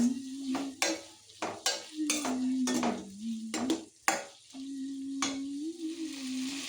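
Okra for a palya frying in a pan, with soft sizzling, scraping stirs and metallic clinks of a spoon against the pan over a steady low hum.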